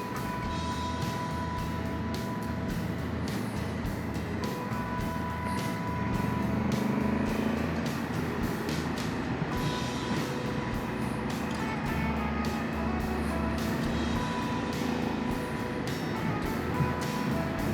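Road traffic heard from a motorcycle while riding on a highway, a steady low rumble of engines and tyres with wind noise, continuous and moderately loud with no talking.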